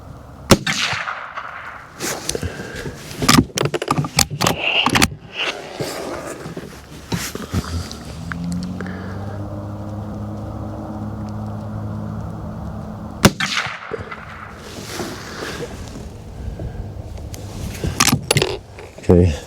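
Henry .22 Magnum lever-action rifle firing five Maxi Mag rounds at a 50-yard range, sharp loud cracks spaced irregularly with lever cycling clatter between shots, plus a stretch of steady low engine-like hum in the middle.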